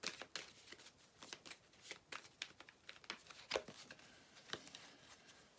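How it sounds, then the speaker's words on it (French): Deck of tarot cards shuffled by hand during a daily card reading. Quiet, close riffling and slapping comes in irregular quick bursts, with no talking. "Donc, je vais la remettre dans le jeu et on verra si elle ressort ou pas."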